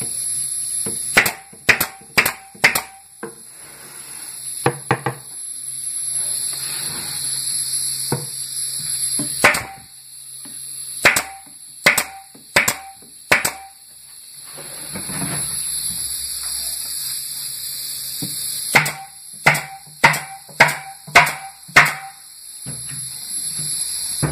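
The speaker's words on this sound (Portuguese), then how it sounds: "Repita da mesma forma, ache o canto correto e comece a grampear." A staple gun fires covering material onto a wooden speaker box in quick bursts of sharp snapping shots, several in a row, pausing between groups, close and loud over a steady background hum.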